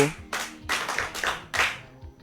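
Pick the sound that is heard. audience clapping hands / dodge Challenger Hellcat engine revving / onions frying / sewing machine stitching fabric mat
audience clapping hands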